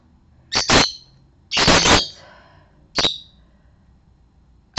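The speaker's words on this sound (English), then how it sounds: "The birds are particularly crazy this morning." Pet birds squawking loudly indoors in the morning, three harsh close bursts with short gaps between them, the middle one longest.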